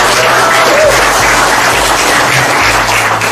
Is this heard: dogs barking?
no